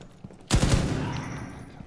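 Rapid burst of gunfire from the Rainbow Six Siege video game, a loud cluster of shots followed by a decaying echo tail.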